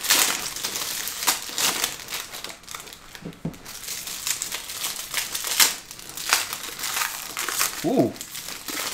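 A foil pack of 2022 Topps Pristine baseball trading cards being torn open, with sustained crinkling and ripping of thin foil up close, broken by sharper tearing bursts and a brief voice partway through.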